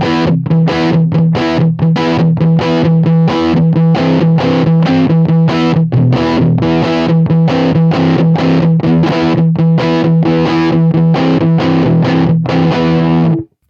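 Distorted electric guitar through a Universal Audio Lion 68 Super Lead amp, loud rhythmic strummed chords hitting in a steady, driving pattern for about fourteen seconds, close and alone, with no talking.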